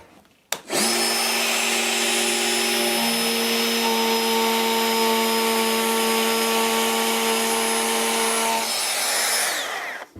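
A Bosch GKF 12V cordless palm router cutting end grain whines steadily for about nine seconds after a sharp start, its pitch stepping up partway through, loud and close with no talking.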